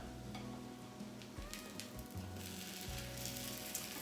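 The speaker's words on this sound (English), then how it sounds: "So we'll pan fry them on the griddle" French toast sizzles on a hot griddle, a quiet steady frying crackle with a few soft clicks and shifts, no voices heard.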